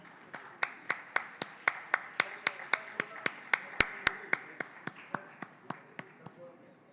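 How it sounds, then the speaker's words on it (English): A single pair of hands claps in a regular, evenly spaced beat of about twenty claps that slows and fades near the end, with quiet talk underneath. It follows a festival session at a literary festival. "Can we have a louder round of applause for Mr. Myra and Ms. Bhushan?"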